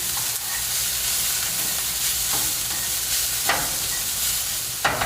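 A cooked-down mixture stirred in a pan just after cumin goes in, a constant soft sizzle under a few sharp scrapes and clinks of the spoon against the pan.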